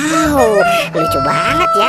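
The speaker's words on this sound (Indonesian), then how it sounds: "ini ada ayam berkokok" A toy rooster gives an electronic cock-a-doodle-doo crow close by, with a voice speaking over it during toy play.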